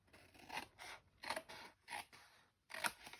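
Scissors slice through card for a craft treat box in four or five rhythmic crisp cuts, close and quiet, with a short pause before a final snip.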